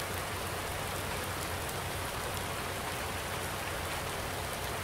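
Steady, dense rain hisses continuously and evenly at a constant level, with no breaks or voices.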